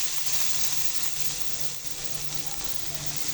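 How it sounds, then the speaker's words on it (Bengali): Onions fry in hot oil in a pan that was just used to fry koi fish, giving a dense, steady sizzle heard close and loud throughout. "পেঁয়াজগুলো আমি ভালোভাবে ভেজে নিব।"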